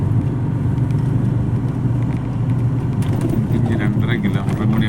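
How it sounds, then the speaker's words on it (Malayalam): A lorry passes on a narrow road near a waterfall, its low engine rumble steady and loud alongside wind noise and nearby birds. "ലോറിയൊക്കെ വരുന്നുണ്ടല്ലോ ഇതില്."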